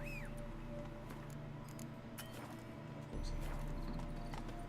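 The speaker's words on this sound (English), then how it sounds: "Run, Roach. Bloody fine mount." A horse's hooves clip-clop at a steady trot in The Witcher 3 game, a rhythmic run of close hoofbeats over a low ambient bed, with faint tack jingles and a brief whinny-like tone.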